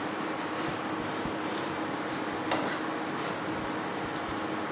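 An onion paratha fries in a pan with a steady, even sizzle that hisses continuously at moderate volume and carries no voices.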